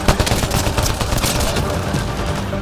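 Rapid, loud bursts of gunfire from the shooter game Mass Effect, with dense overlapping shots fired in quick succession across the whole moment.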